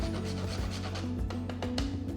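Whole nutmeg is rubbed against a grater over pasta in spicy tomato sauce, making a steady, close rasping scrape that runs for about two seconds with a few sharper strokes near the end.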